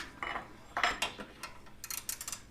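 A ratcheting wrench clicks in quick bursts while loosening the front bolt of an upper control arm on a GMC Envoy, with light metallic clatter in between and nobody talking.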